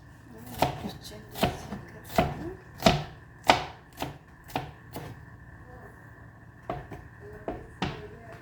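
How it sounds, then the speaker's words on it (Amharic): A knife chops green, yellow and red peppers on a board for shakshuka, about a dozen crisp, close strikes in a steady rhythm with a short pause in the middle, no voices. "እና ይሄው እየከተፍኩ ነው።"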